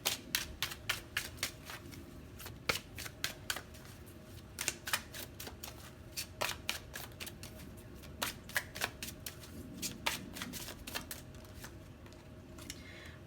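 Oracle cards are shuffled by hand in a long series of crisp snapping riffles and flicks at an uneven rhythm, close and fairly quiet, with no talking.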